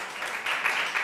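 Applause from an audience at an Italian talk for a man named Maurizio, a steady wash of many hands clapping at moderate volume, slightly distant and swelling a little toward the end.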